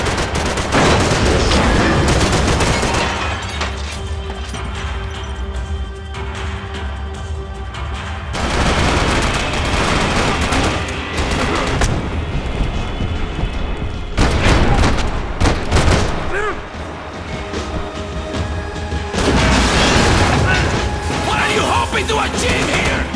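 Gunfire in the video game Max Payne 3, dense bursts and loud impacts layered over a constant mechanical game soundscape, with sustained musical tones running underneath.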